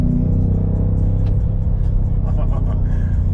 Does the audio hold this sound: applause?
no